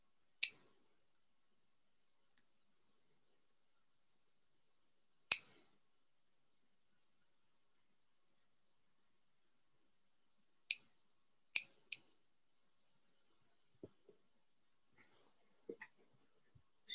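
Scissors snip leftover material while a Hemsdale Doctor salmon fly is tied, with sparse, sharp, close clicks spread across a quiet stretch and a quick pair of cuts together, followed by faint handling sounds.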